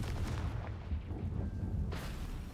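A Confringo spell blast in a video game bursts with a deep booming explosion, followed by rumbling aftershocks and a second sharp burst near the end, moderately loud with no talk.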